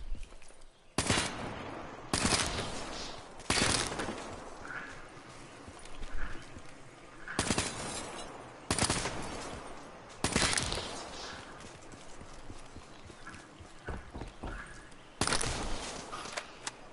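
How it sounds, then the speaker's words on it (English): Sharp gunshots in the video game Black Ops III crack in irregular bursts, some single and some in quick pairs, against a faint background hum with no talking. "You hear my gunshots?"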